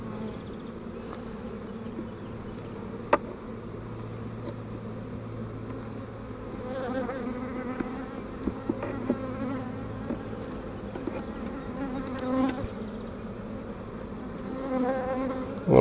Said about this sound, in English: Look at all them bees down in there.